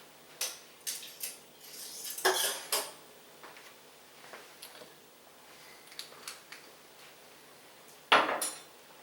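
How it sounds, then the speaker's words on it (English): A spoon stirs Cajun Chex mix with melted butter, Worcestershire sauce and seasoning in a bowl, making scattered close clatters and scrapes with a couple of louder knocks. "So I just want to stir everything together."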